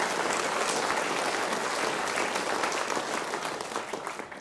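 A theatre audience at an old-time music hall show breaks into loud, sustained applause, a thick wash of clapping that holds steady and then begins to thin toward the end.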